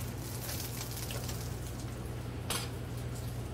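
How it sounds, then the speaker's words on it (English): Cabbage, turnips and mushrooms being stirred in a hot pan, a steady soft scraping and sizzle with a low constant hum beneath and one brief louder clatter near the end; no one talks. "We stir the cabbage."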